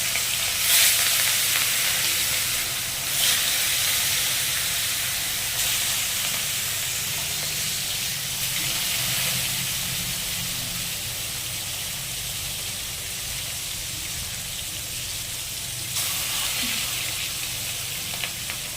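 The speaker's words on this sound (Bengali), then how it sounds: "ভাজার জন্য তেলটা গরম হয়ে এলে আমরা তেলের মধ্যে দিয়ে দেবো মাছের পিসগুলো" Continuous loud sizzling of fish pieces frying in hot oil, crackling steadily for the whole stretch with occasional bursts of stronger spatter.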